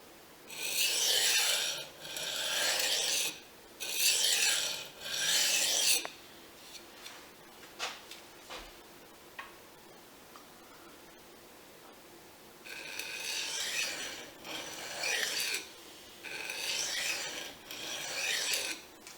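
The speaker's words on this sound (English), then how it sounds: "So I'm just going to quickly take a little bit of the burr off." A Fujimoto honesuki blade is drawn lightly across a Japanese waterstone to remove the burr, giving repeated close gritty rasping strokes in bursts separated by brief pauses and a few small clicks.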